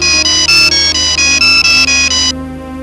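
A telephone rings loud and near in a rapid pulsing electronic trill, about ten even bursts back to back before cutting off, leaving a faint steady tone behind, with no voices.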